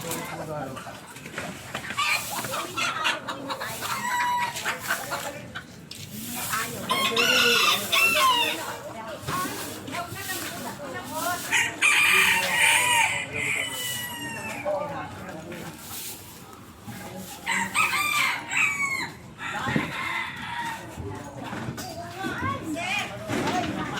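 Chickens cluck and a rooster crows repeatedly nearby, with people talking in Filipino over the birds throughout, during a street clearing operation in Tondo, Manila.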